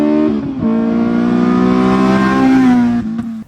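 An 8th generation Honda Civic Si with a fairly quiet exhaust revving up close, the engine note climbing in pitch with a brief dip between throttle blips, loud and alone.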